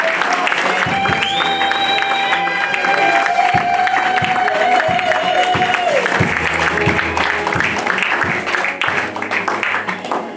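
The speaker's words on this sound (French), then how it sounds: "Et nous saluons ta présence au travers des acclamations et des cris de joie." A church congregation cheers, claps and shouts for joy in loud, dense waves, with a sustained tone ringing through the crowd noise and scattered sharp claps throughout.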